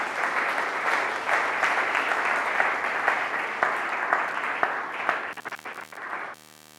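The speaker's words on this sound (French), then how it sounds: "tu peux acclamer pour toi-même et pour le Seigneur" Sermon audience applauding steadily for several seconds, a dense even roar of many hands clapping in a hall, breaking into scattered claps before cutting off.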